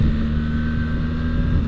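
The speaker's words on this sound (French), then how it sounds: "Là je vais descendre de vitesse au sélecteur" A BMW R 1300 GS Adventure motorcycle engine droning steadily through a downshift with the gear selector, a low rumble under wind noise from riding, with no clear break in the sound.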